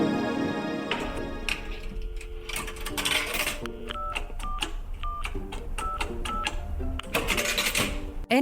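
Old coin-operated payphone sounding alone: a run of clicks and clunks like coins dropping, then a series of short, evenly spaced beeping tones, fairly close and clear.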